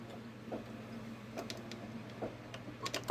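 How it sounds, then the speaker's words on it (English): A Babylock Solaris Vision embroidery machine sews a lock stitch, giving off a faint, quick run of light mechanical ticks over a steady low hum, with no voices. "let's do a lock stitch"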